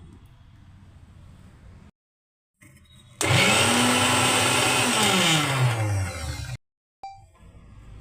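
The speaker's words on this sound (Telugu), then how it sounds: "దీనిలో లైట్గా వాటర్ వేసుకొని గ్రైండ్ చేసుకుందాం." Mixer grinder blending boiled amaranth leaves with a little water: a loud motor whine starts after a short pause, its pitch sliding down as the load changes, then cuts off abruptly before a brief restart.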